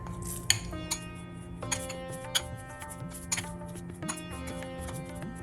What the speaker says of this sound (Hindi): अभी हमें इसे अच्छे से मिक्स करना है।